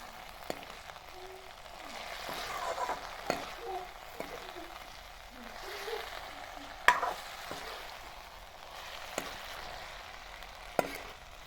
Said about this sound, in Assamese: এয়া দেখিছেনে মোৰ ভাজি প্ৰায় হৈছে